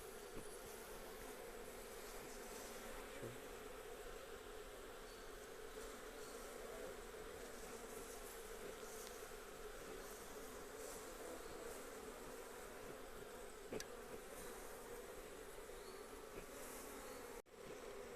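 A swarm of honey bees buzzes at a hive during honey harvesting, a steady dense hum that holds without pause.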